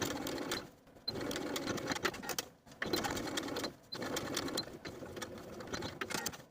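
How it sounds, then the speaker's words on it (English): Sewing machine stitching in the ditch along the shoulder seams of a boxy top to secure the facing: close, rapid whirring in short runs broken by quick pauses. "at each of the shoulder seams, we're going to stitch in the ditch as far as the facing to secure the facing in place"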